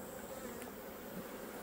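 Honey bees hum steadily at the hive during late-season feeding, a soft continuous buzz with a few individual insects passing close, faint overall and with no voices.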